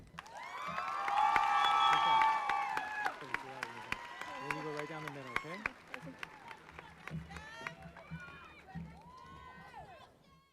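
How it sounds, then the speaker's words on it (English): Applause and cheering from a crowd at a 2019 Southwest High School graduation swell loudly at the start, then fade into scattered claps and whoops while a voice speaks over the dwindling noise. "Let's give another round of applause to Stephanie."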